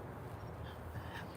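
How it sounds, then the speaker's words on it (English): A crow, a female bird in a garden on a windy, cool morning, caws a few times at moderate distance over steady low wind rumble. "That bird is always wanting me to know that she's there."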